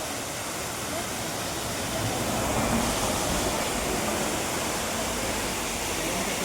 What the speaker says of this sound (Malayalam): മൂന്നാർ വെള്ളച്ചാട്ടമാണ് കേട്ടത്